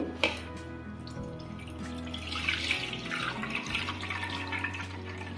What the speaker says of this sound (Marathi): आपण तांदूळ पाण्यातून काढून घेऊ